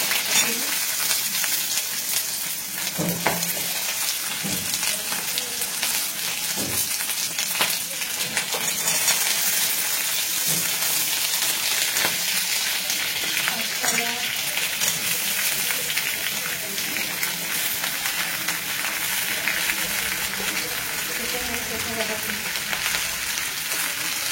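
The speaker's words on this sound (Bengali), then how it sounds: "কড়াইতে ভালো করে কড়াইটা গরম হয়ে গেলে আর সর্ষের তেলটা ভালো করে গরম হয়ে গেলে তো এর মধ্যে আমি দিয়ে দেবো এই সবজিগুলো" Vegetables frying in hot mustard oil in a wok, a loud, dense, steady sizzle lasting throughout, with occasional clinks and scrapes of stirring.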